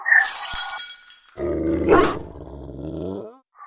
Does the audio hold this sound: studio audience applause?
no